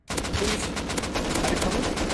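Rapid automatic gunfire in the survival game Rust, a loud, dense stream of shots firing almost nonstop for two seconds, close and without any talk.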